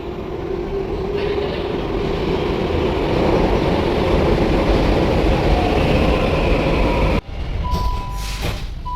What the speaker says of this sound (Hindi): आ गई हमारी मेट्रो